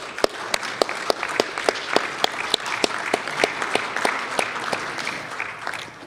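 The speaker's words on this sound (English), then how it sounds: "Let's give them a round of applause, guys." An audience at a convention centre event applauds in a steady, dense wash of clapping, with sharp isolated claps or clicks ringing out at a regular rhythm throughout.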